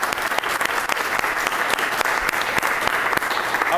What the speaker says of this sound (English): So can everybody just give Renee a round of applause